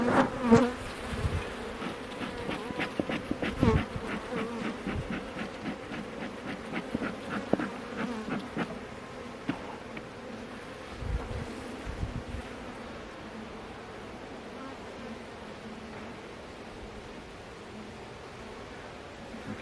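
Honeybees swarm around an open hive during an inspection, buzzing loud and close with rustling at first, then settling into a softer, steady hum.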